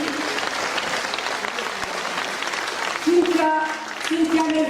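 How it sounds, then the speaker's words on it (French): Audience applause at a congress gathering in Poya, New Caledonia, a dense steady patter of many hands under a speaker's voice, growing louder and fuller toward the end. "Nicolas Nestor, que vous venez d'applaudir."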